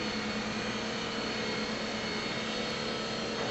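A model airplane motor drones steadily and loudly while the plane is steered, a continuous even whine with no clear rise in throttle and no voices.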